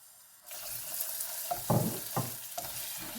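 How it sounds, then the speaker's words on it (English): Butter melting in a pan on the heat, making a soft sizzle that starts about half a second in, with a few clinks and scrapes of stirring, close, no voices. "And there's the butter. I'm going to take this off the heat. The butter's melted."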